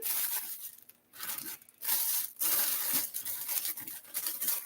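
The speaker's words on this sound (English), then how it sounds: "I'm gonna floof out our cellophane" Cellophane gift wrap being fluffed and crinkled by hand for a homemade spa gift set, giving a close, dry crackling and rustling in uneven bursts with short pauses, no voices.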